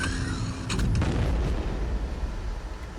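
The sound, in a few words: bomb explosion in video game Shadow Warrior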